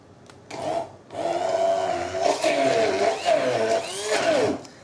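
Kitchen blender whirring through chicken and cheese portions for a chicken spread, starting with a brief pulse, then a loud, steady grinding roar whose pitch wavers as the blades bog down and pick up again; no talking.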